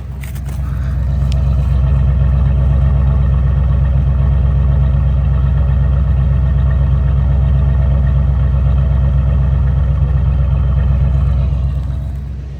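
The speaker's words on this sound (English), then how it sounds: "Get you a little exhaust note." A car engine idles with a deep, steady exhaust rumble that holds constant and loud throughout, with no talking.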